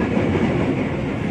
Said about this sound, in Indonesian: sekarang kita ada di komuter tujuan Jakarta Kota pemberangkatan Bogor yang rangkaiannya 8 kereta